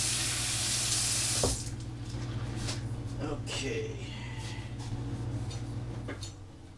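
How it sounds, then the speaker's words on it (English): A kitchen knife is rinsed under a running kitchen tap, a steady water rush that stops after about a second and a half, then a few light clinks follow while someone talks. "knife gets washed and put away, first things first"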